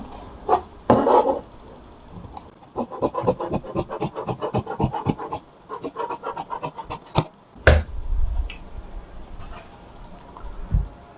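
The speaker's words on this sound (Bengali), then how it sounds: "এখন আমি এটা কাটিং করব হাফ ইঞ্চি এখানে সেলাই প্লাজা রেখে কাটিং করতেছি" Scissors cut through salwar fabric, leaving a half-inch seam allowance, in a close run of quick rhythmic scratchy snips with short pauses and a heavier rustle near the end. No talking.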